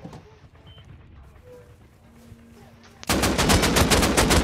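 Rapid automatic gunfire from a firefight in the survival game Rust, bursting in loud and close after a quieter stretch and rattling on steadily to the end.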